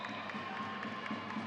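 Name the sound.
crowd applause at a women's college basketball game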